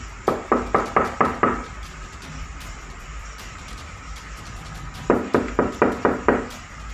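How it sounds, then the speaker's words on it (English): Two bursts of rapid knocking on a house door at night in Malaysia, each a quick run of about six sharp raps, separated by a few seconds of quiet hum. "He has the door partially open to show that there's not anyone knocking on his door."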